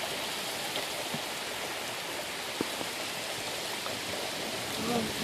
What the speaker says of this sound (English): Everyone can see we had rain.